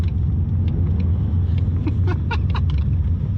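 Car engine rumbling steadily with low throb as it runs through downshifts, heard from inside the vehicle, fairly loud with a few faint clicks and ticks on top and no talking.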